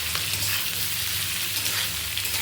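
Chopped onion and garlic fry in a pan of oil for a mutton dish, giving a continuous, close, busy sizzle with a faint low hum beneath and no talking.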